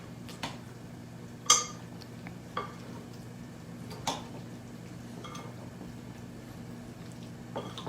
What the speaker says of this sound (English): We give a nice mix now.